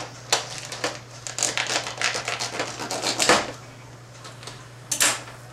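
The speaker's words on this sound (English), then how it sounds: "Cut that plastic off there." A pointed knife cuts and tears the plastic wrap off a brisket, making a rapid series of crinkling, scraping snips close by over a low hum.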